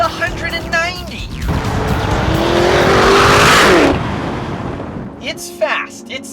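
A 2021 Lamborghini Urus accelerates hard, a loud rising engine roar and rushing wind building over a few seconds and then dropping away, with talk and engine noise before and after.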